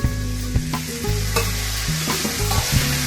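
Tomato and green chili sauté in hot oil for a restaurant-style egg curry. A loud, steady sizzle runs throughout, broken by repeated scraping stirs of a spoon against the pan, with no talking.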